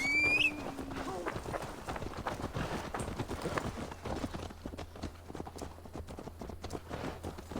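Horse hooves gallop in a steady clip-clop rhythm close by in Assassin's Creed Valhalla, continuing over the whole stretch with game ambience and a low hum underneath.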